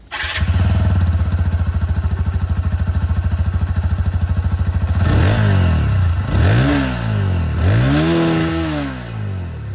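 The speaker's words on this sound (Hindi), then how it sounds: "अब क्योंकि बात यहाँ पर भी इंजन की हुई है तो एग्जॉस्ट साउंड यहाँ पर भी आप लोग" A TVS Apache 160 2V Anniversary Edition motorcycle idling with a steady, rapid exhaust thump, then revved several times in rising and falling swells, loud and close with no talk over it.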